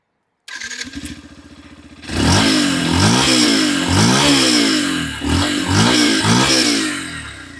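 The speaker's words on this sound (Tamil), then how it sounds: "எக்ஸாஸ்ட் நோட் கேட்போம்" A 150cc sports motorcycle starts with a brief cranking clatter, then its exhaust roars loud and close through a series of repeated sharp revs, rising and falling in quick blips.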